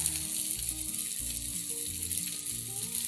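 Tomato chili sambal with shrimp paste sizzling in a pan as it is stirred, a steady close frying hiss with a faint tonal hum in the background.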